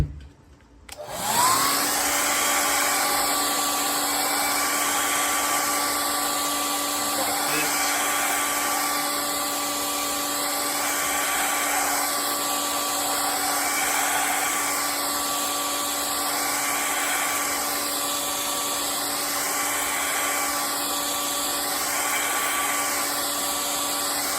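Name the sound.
hair dryer blowing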